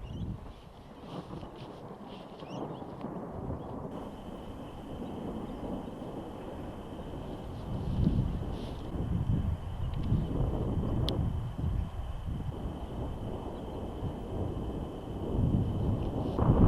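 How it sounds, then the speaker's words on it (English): Near-constant thunder from a storm over the Illawarra region of New South Wales, Australia, heard as a deep, continuous low rumble swelling in waves, with wind buffeting the microphone and no talk. "It's almost constant thunder"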